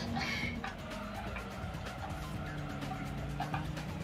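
A compact racing car in Gran Turismo 2 oversteers, its tires squealing and skidding over a constant engine drone, with a sharp squeal early that fades into ongoing game racing noise.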